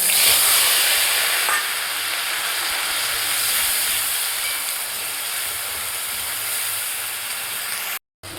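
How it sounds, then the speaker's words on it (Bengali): Onion paste hits leftover hot oil in a kadai while cooking oil koi fish, giving a loud, steady hiss that holds for several seconds before cutting off abruptly, with no talking. "এর মধ্যে আমি পেঁয়াজ বাটা দেব"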